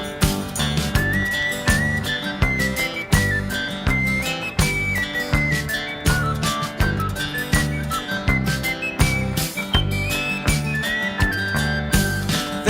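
Whistled melody within a folk-style song, a bright tune weaving over steady rhythmic accompaniment of guitar and percussion, loud and continuous throughout.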